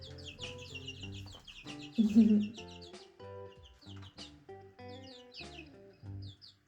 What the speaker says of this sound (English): Hi, baby chickens.